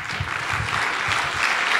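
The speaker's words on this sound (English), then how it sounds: "let's give them a round of applause" An audience at a health care IT keynote panel applauds, with dense, steady clapping throughout, full and close.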